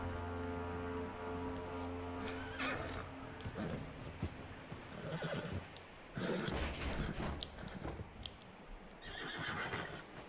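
In Red Dead Redemption 2, a horse whinnies loudly and then gives shorter snorts and neighs, with hooves clip-clopping nearby across the ten seconds and no talk over it.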